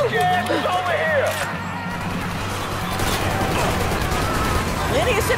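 Gunfire in the video game Mafia III comes as scattered bursts of shots amid crashes and background game noise, with voices talking over much of it.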